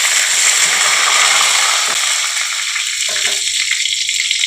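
Whole cumin seeds and three bay leaves frying in mustard oil for a Bengali kochur loti dish, a loud, dense, steady sizzle heard close up and on its own, with no talking.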